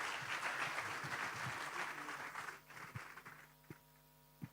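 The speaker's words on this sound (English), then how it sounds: "Again, a loud applause to all of them." An audience at a church conference in Nairobi claps together, the applause dense at first, then thinning into scattered claps over a low electrical hum.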